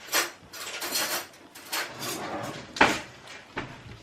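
Metal cutlery clatters and clinks in a kitchen as a spoon is taken from a drawer for chia seed pudding, with several short, close knocks and rattles spread across the moment.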